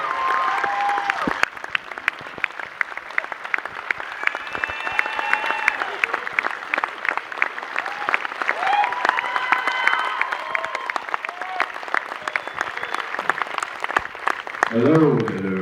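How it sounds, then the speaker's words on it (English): A cinema crowd at a film Q&A applauds and cheers for the director and star, a long, steady wash of clapping with whoops rising through it and voices calling out near the end. "let's give a round of applause to director Rob Zombie and star Sheri Zombie"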